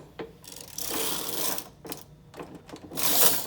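A knitting machine knitting rows for a fern lace trim: the carriage makes loud, close mechanical whirring sweeps back and forth, in several passes separated by brief pauses.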